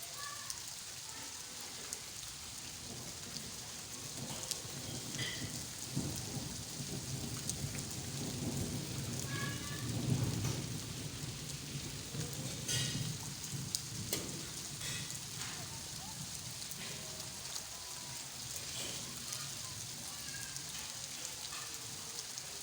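Steady rain falls during a thunderstorm, with thunder rumbling low and swelling near the middle. The hiss of rain and drops on surfaces runs continuously at a moderate, fairly distant level.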